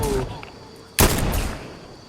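A single sharp, loud gunshot-like blast from the video game Fortnite cuts in midway over a steady background hum, its burst tailing off over the following second.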